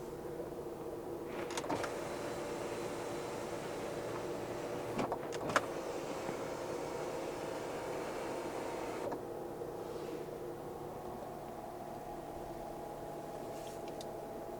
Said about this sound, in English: This one lowers or raises the powered rear sunshade